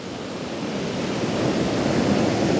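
Large ocean waves break and surge onto Rialto Beach on the Olympic Peninsula in Washington. The roar is steady and broadband, with no speech.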